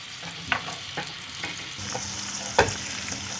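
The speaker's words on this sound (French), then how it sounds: "mon steak haché est presque cuit. N'oubliez pas de temps en temps de l'arroser avec le beurre." A hamburger patty frying in butter in a pan inside a ring mould, with a continuous sizzle broken by several spattering pops and one louder crackle, close and without speech.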